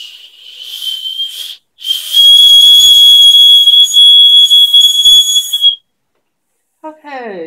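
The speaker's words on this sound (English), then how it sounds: "I don't think the whistle's that well designed, but, it will make a loud noise." A shrill, piercing whistle is blown twice in long, steady blasts, loud and close, with a short gap between them.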